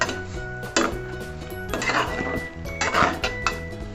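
Jackfruit with turmeric and salt is stirred in a metal pan, with several loud scraping and clanking strokes from a spoon over a low steady hum.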